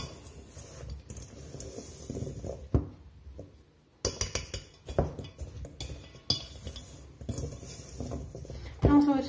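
A whisk clinks and taps against a bowl of apple and rhubarb muffin batter, with irregular metallic rattles and a few sharp knocks, close up with brief pauses.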